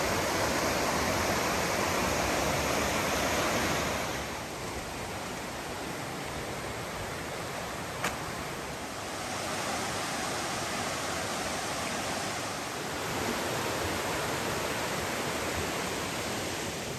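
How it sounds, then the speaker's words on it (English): Roush Creek flows over rocks near the old Roush Gap village site, a steady rushing hiss of water heard up close, briefly softening midway before swelling again. "Taking a break by the nice Roush Creek."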